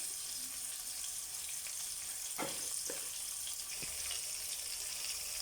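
Beans sautéing in a pan for koththu chapathi, a steady bright sizzle with a few knocks and scrapes of a spatula against the pan, close and continuous.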